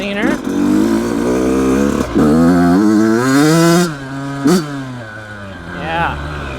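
A brand new Yamaha YZ85 dirt bike, recently fouling plugs and running rich, revs up close and loud in several sweeping throttle blips, its pitch climbing and dropping back cleanly to idle.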